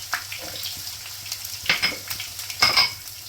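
Chopped onion, garlic and green chilli frying in a pan with cumin, a continuous sizzle broken by clinking stirring strokes that grow louder toward the end.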